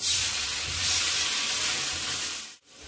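Chopped chili and ginger sizzle in hot ghee for a soup, a steady close frying hiss that runs for almost three seconds and then cuts off briefly near the end.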